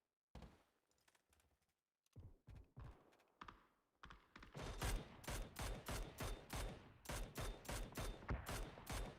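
Gunfire in the battle royale game PUBG during a pro league grand final: short, scattered shots at first, then loud, rapid bursts of automatic fire repeating in a steady rhythm.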